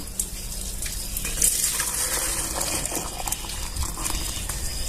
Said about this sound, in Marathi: इथं पाण्याला उकळी आलेली